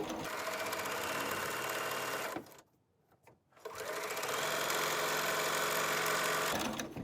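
Sewing machine stitching binding onto a quilt, running in a steady loud whir up close, then a brief pause with small handling sounds before it starts again and keeps going.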